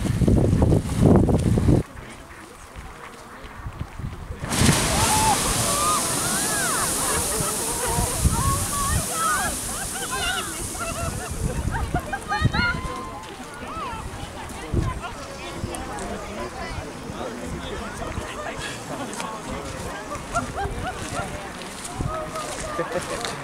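A small geyser at an Icelandic hot spring bursts up with a sudden rush of spray and sloshing water. Wind roars on the microphone and people talk over the steady hiss.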